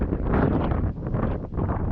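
Steady broadband wind gusting across an open high-elevation lake in Utah, a constant loud roar buffeting the microphone with slight swells, no voices present.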